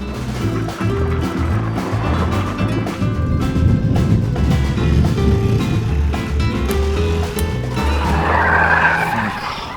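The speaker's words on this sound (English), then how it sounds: "I just slipped out on the scooter." A moped sliding out on a Portuguese countryside road, a loud close scraping skid with tyre screech and rumbling engine noise that runs for several seconds before easing off.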